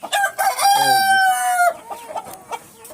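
Brahma chickens at a poultry farm give a loud, close, drawn-out crowing call followed by scattered short clucks.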